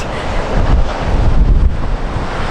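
Strong seaside wind roars and buffets hard against the microphone at a car campsite, a loud, continuous rush with gusting surges and rough surf underneath.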